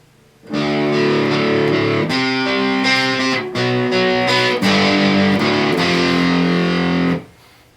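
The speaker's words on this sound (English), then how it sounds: "you'll hear him play the same thing, only under distortion, only it's slightly rolled back distortion" A distorted electric guitar, distortion slightly rolled back, plays a chugging riff of repeated chords, steady and loud, stopping briefly between phrases before ringing out.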